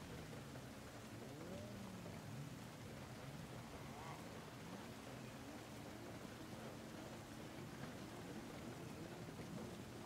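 Steady rain in the racing game Forza Horizon 5, a dense, even hiss of falling drops that holds unchanged for the whole stretch, with faint murmuring voices buried underneath.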